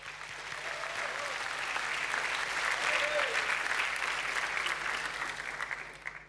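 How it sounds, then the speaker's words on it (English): At an awards night finals event, an audience gives the participants a round of applause. The clapping is full and steady, swells slightly in the middle and tapers off, with a faint low hum underneath. "I think you all deserve a round of applause."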